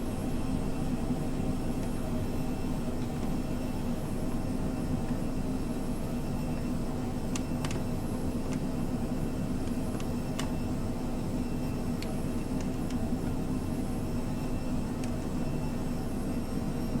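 A Phenom 100 jet in Microsoft Flight Simulator on final approach, hand flown with one stage of flap, gives a steady, broad engine roar with a constant whine and a few faint clicks throughout.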